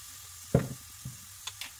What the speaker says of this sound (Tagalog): Sulutuin lang natin hanggat sa lumambot at saka idagdag itong ground pork.